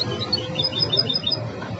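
A hybrid songbird sings a quick run of bright, high chirping phrases that copy other birds' songs, a close and lively series of repeated notes with no voices.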